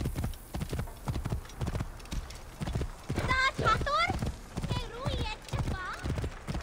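Horse hooves clip-clopping at a steady trot in the Assassin's Creed Origins video game, loud and close with a brief neigh partway through, heard beneath a voice talking.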